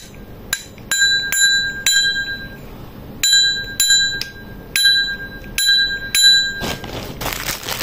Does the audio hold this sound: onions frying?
no